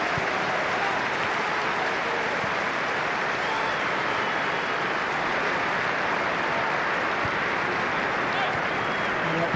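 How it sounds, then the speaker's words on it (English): Sustained burst of applause from a football stadium crowd at a Manchester United testimonial match, a dense, loud, steady wash of clapping and crowd noise throughout. "Burst of applause is"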